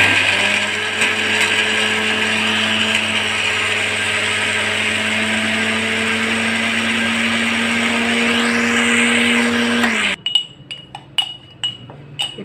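Electric mixer-grinder pulverizing whole spices with coconut, a loud steady whir running continuously for about ten seconds, then cutting off into a few faint clinks as the jar settles.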